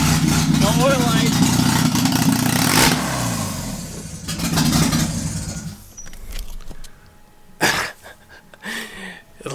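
Forged Nissan 240sx engine running with an open header and Nistune ECU, loud and close, with a rough, throbbing idle and a rev that fades out after several seconds, while people exclaim and talk over it.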